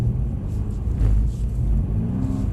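A Mercedes-Benz car accelerates on the throttle, a low engine rumble rising and swelling with a brief revving surge near the middle, heard from inside at moderate level.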